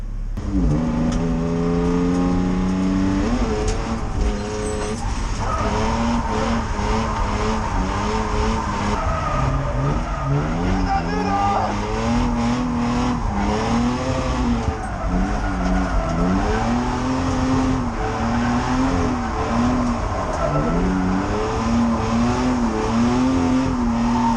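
A BMW E36 drift car revs hard and squeals its tires on a wet surface at night. The engine and tire squeal run loud and continuous, rising and falling with throttle, and no one talks.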